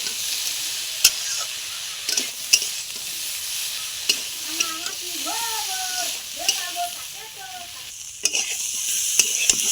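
Spices and green chili sauté in a pan, a soft sizzle broken by sharp scraping clicks of a spatula stirring at irregular intervals, with a voice talking faintly in the background.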